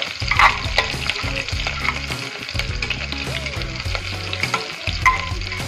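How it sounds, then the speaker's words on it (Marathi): Finely chopped, lengthwise-sliced onion fries in a pan for a vegetable pea pulao, with a continuous close sizzle and crackle and occasional stirring clatter throughout. "बारीक चिरलेला उभा कांदा घालणार आहोत।"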